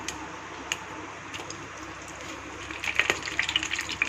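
Soft splashing of water being poured into a pan for cooking black kavuni rice upma, growing louder and more agitated toward the end, with a few faint clicks.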